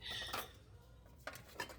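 A metal cake pan is handled, giving soft clinks and light metallic knocks at close range against a quiet background.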